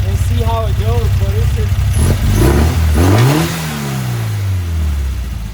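A car engine fitted with a Weber 44IDF carburetor runs and revs, its pitch climbing and falling through a rising sweep, with talk heard over the engine throughout.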